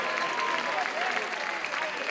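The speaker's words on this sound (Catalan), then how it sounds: "Un fort aplaudiment" A crowd at a festa major colours dinner breaks into strong applause, a brief, dense burst of clapping that stays even throughout.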